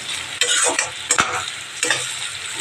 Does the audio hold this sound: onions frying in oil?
yes